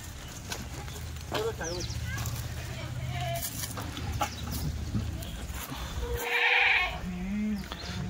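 Kathiawadi goats in a truck bleat several times, near and loud, amid shuffling hooves and someone talking over them.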